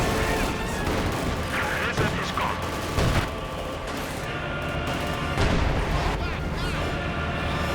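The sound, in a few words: artillery and gunfire in video game Company of Heroes 2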